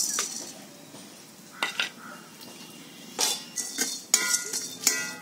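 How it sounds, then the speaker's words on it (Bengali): Whole biryani spices (mace, cinnamon, peppercorns, black and green cardamom, cloves, nutmeg and caraway) are dry-roasted in a wok, with sharp metallic scrapes and clinks of a spatula coming in scattered bursts that grow busier toward the end. "জয়িত্রী, দারচিনি, গোলমরিচ, সামরিচ, বড় এলাচ, লবঙ্গ, ছোট এলাচ, জায়ফল আর সাজিরা, এগুলোকে আমরা ভেজে নেব।"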